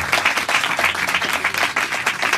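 A church congregation applauding loudly during a Hindi-Urdu sermon, dense rapid clapping from many hands filling the room, continuous and close throughout.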